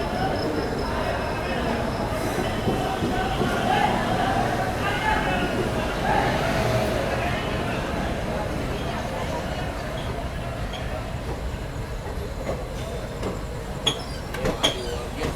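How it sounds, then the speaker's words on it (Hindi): Passenger train pulling out of Virangana Lakshmibai Jhansi railway station, a continuous loud rumble of rolling carriages with wheel clatter and occasional metallic clicks toward the end, a voice talking over it. "तो अभी अपनी ट्रेन निकल चुकी है वीरांगना लक्ष्मीबाई झांसी रेलवे स्टेशन से"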